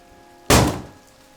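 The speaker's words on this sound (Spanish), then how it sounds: "La puerta a nuestras espaldas se cerró de golpe" One heavy door slams shut in a horror-story sound effect, a sudden loud thud that hits and then fades quickly into quiet.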